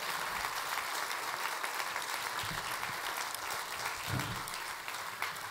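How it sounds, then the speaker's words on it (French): A rally audience in Mennecy applauding the technical team, a faint, distant and steady wash of clapping from a large crowd that continues without pause. "je voudrais que vous applaudissiez vraiment toute l'équipe technique, toute l'équipe de Mennecy"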